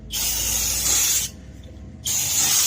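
Two long, forceful hisses of aerosol brake cleaner spraying up close on a Lexus RX350 rear brake, separated by a short pause.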